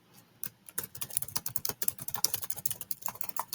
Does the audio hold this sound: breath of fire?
no